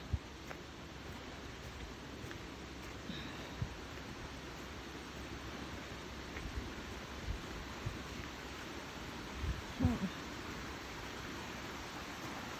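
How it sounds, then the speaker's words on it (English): Steady rushing water fills the background, a constant broadband wash with no talking, like a stream running close by outdoors, flowing down a hillside. "That water's really running up here. I can hear it."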